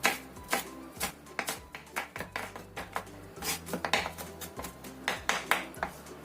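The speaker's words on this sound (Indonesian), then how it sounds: "Kemudian 3 siung bawang putih kita cincang halus." A knife finely mincing three garlic cloves on a cutting board, giving a steady run of sharp, close tapping chops in a quick, slightly uneven rhythm with no talking.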